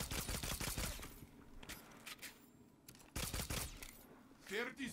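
Rapid bursts of SMG fire in Destiny Trials, loud and close, a dense rattling volley at the start and more bursts later, with a voice talking between them.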